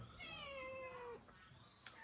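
A single drawn-out cat meow with falling pitch rises over a quiet indoor background, followed by a brief faint sound near the end; no one talks during it.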